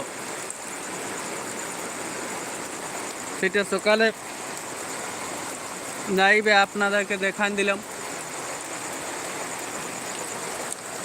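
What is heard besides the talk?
heavy rain falling outdoors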